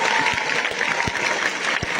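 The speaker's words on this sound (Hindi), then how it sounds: "एक बार सबको ताली बजाओ जो 9 दिन पैदल चला" Steady applause from a gathered audience at a religious gathering, a dense even patter of many hands clapping together, loud and continuous throughout with no speech over it.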